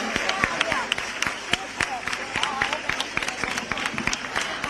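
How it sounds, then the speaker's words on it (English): Crowd applause for astronaut Shubhanshu Shukla and the Axiom-4 crew, with sharp individual claps ringing out over a busy murmur of cheering and voices, close and fairly loud. "A loud round of applause for Shubhanshu, for India, and for the Axiom-4 mission"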